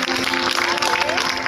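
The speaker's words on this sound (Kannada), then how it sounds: "ಎಲ್ಲರೂ ಸೇರಿ ಇನ್ನೊಂದು ಸರ್ತಿ ರೆಡಿ 1 2 3 ಜೋರಾದ ಚಪ್ಪಾಳೆ" Loud, dense applause from wedding guests clapping for the bride and groom, a steady wash of clapping with crowd noise throughout the short burst.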